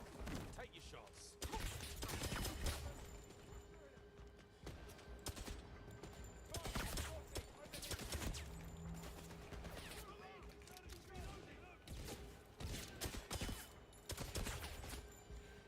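Gunfire from the video game 007 First Light, heavy bursts and volleys of shots recurring across the scene, loud and close, mixed with other game action noise.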